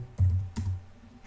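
A few quick keystrokes on a computer keyboard entering a terminal install command, two distinct close clicks followed by quieter tapping, no voices.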